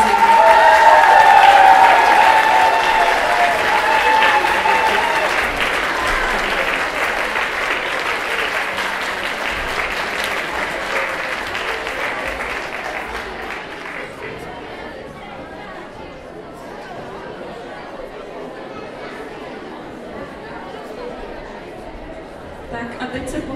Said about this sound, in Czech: velký potlesk, prosím.